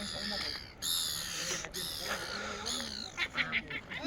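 Ducks and pigeons call in a park in Rotorua, New Zealand, with irregular quacking and chirping over steady outdoor ambience, growing busier near the end, while some voices murmur faintly.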